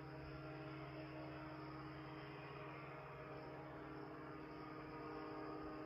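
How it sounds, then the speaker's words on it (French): A steady, faint, distant drone of an airplane coming in to land nearby, an even rumble that neither rises nor fades, with no one talking. "il y a un avion qui va atterrir à côté"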